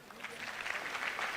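A brief, fairly faint burst of audience clapping from a crowd at a live event, steady throughout.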